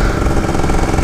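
A two-stroke motorcycle engine running close and loud, a steady buzzing drone with rapid rough pulsing and no pauses.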